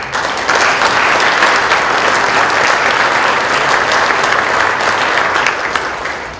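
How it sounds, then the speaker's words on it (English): Loud, dense applause from a banquet crowd honoring coaches at a Hall of Fame award dinner, steady throughout and tapering slightly at the end. "If I give one more round of applause for them."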